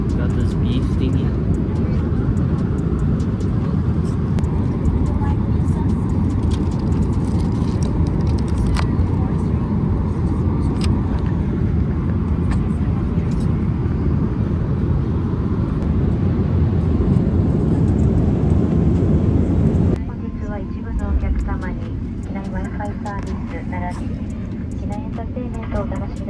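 Steady broadband roar of an airliner cabin just after touchdown, loud and continuous for about twenty seconds before dropping to a quieter hum as the plane slows, with faint voices mixed in.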